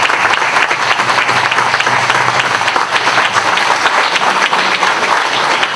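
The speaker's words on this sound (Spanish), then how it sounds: "un fuerte aplauso para Belén" Loud, sustained audience applause for councillor Belén at a public event, many hands clapping in a thick continuous wash for nearly six seconds, close and steady with no talk over it.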